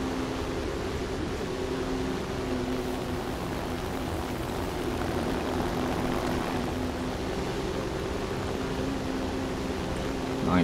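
Propeller aircraft engines from the P-63A-10 in War Thunder drone steadily throughout, a continuous layered hum with broadband rush and no talk over it.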